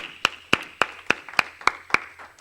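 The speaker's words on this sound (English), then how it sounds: "let's give the organizers one more round of applause" Sharp, evenly spaced hand claps ring out at a youth church service, about eight crisp claps in a steady rhythm, close and distinct, with quiet gaps between them.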